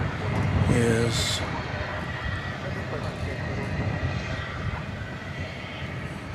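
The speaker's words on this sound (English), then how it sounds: "It's an Airbus A321." An Airbus A321 on American Flight 1659 arrives at DFW Airport after dark, its steady engine roar carrying on under a brief spoken voice near the start.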